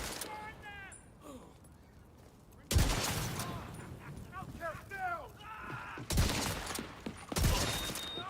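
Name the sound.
Model 700 rifle gunfire in the video game The Division 2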